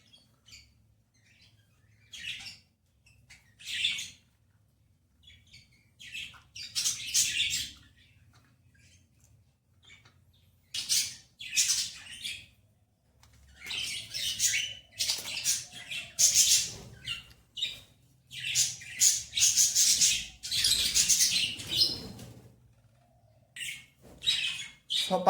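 Pet birds feeding in their enclosure chirp and squawk in repeated bursts, starting sparse and growing busier and louder, close by with a low steady hum underneath and no talk.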